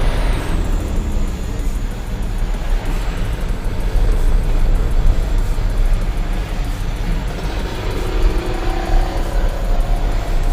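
A heavily loaded Canter truck pulls in third gear, its engine droning steadily at high revs amid broad road and wind noise, loud and continuous without talk.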